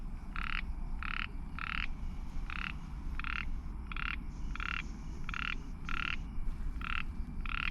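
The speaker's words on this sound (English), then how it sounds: "That was the East Asian ornate chorus frog." An East Asian ornate chorus frog calls in a steady series of about a dozen short, regularly spaced croaking bursts over a dense, constant background hum.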